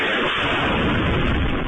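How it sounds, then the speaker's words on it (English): Russian missile strikes hit Kyiv, and a loud, dense roar of explosion noise fills the recording, a sustained boom with heavy low rumble and no voices. "Tonight, explosions in Kyiv."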